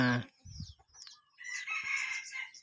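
Burmese fighting roosters crow and cluck nearby in a farmyard at feeding time, with short clucks and calls followed by a longer, louder crow.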